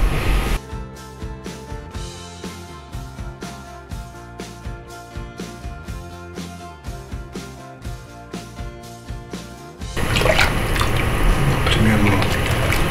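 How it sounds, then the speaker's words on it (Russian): Several ladles of broth are poured into a pot of German-style beshbarmak, a burst of wet splashing and pouring near the end that follows a stretch of steady background music. "сюда добавляем вот так вот сейчас несколько поварежек бульона"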